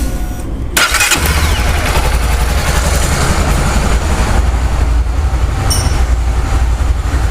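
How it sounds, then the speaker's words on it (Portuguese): A fuel-injected motorcycle engine cranks and catches abruptly, then settles into a loud, steady idle close to the microphone, with a dense continuous rumble and no voices. "Vamos dar partida na moto."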